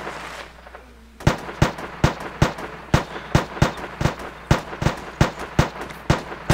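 Rapid gunfire from two different weapons in a video game, shots cracking loudly at a steady rhythm, about fifteen sharp reports in quick succession after a short quiet opening, with no voices.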